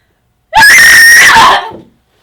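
A single piercing horror-film scream from a woman, loud and close, erupts after a brief silence and trails off within about a second.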